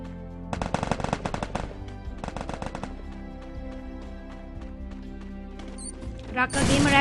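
Bursts of automatic gunfire and shotgun blasts, including an M1887 shotgun, ring out in a battle royale video game, with rapid rattling volleys and sharp shots under steady music and a loud crash near the end.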